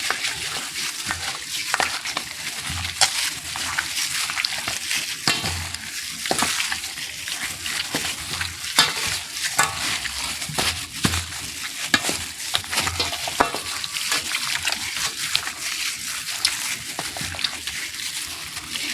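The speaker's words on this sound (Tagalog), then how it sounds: "Mix natin para yung mga ingredients niya pampalasa ay magkalat." Pork belly being mixed with seasoning ingredients makes soft, irregular wet squelches and scrapes that repeat quickly and stay fairly quiet, with no talking over them.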